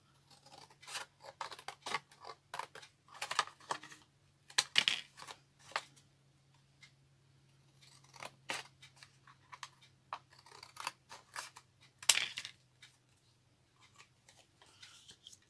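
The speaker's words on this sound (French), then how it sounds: "Je vais découper le carton." Scissors cut through cardboard in irregular bursts of close, crisp snips and rustles with short pauses between cuts, alone in a quiet room.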